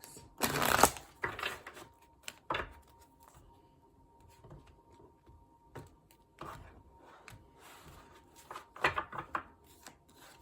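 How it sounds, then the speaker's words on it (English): Tarot cards shuffled in soft, scattered riffles, louder at the start and end, with a faint steady hum underneath. "Last shuffle"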